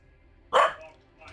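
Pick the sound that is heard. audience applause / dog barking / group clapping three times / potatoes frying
dog barking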